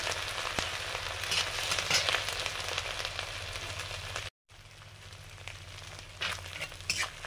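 Chopped ginger sizzles in hot oil and ghee in a pan, a steady, close frying crackle with a brief cut of silence partway through.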